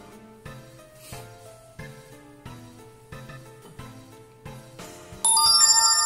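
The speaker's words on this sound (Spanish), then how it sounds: "El móvil y todo suena." Mobile phone ringing in the video game A Way Out, a repeating melodic ringtone pattern of chiming notes at steady intervals, rising louder at the end, with no talk.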